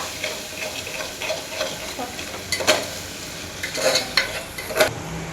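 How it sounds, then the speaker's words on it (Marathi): Masala for prawn curry, salted before the prawns go in, is stirred in a pan with a soft sizzle, several distinct scraping strokes standing out from the frying hiss, with no talking. "व्यवस्थित मिक्स करून घेते आता हे सगळं मसाला."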